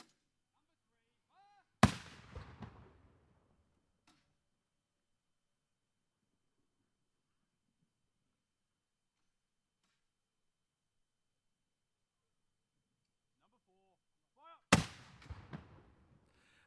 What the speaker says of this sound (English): The 21-gun salutes are most commonly fired for the Queen's birthday or royal visits, along with Australia Day